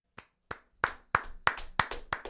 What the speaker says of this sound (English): the guys are clapping for me, and it's very nice of them